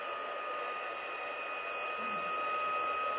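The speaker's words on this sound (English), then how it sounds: "Ideally, have your heat gun heated up first," Heat gun blowing while melting embossing powder on a handmade Christmas card, a steady airy whir with a faint high whine, fairly quiet and continuous, no talking.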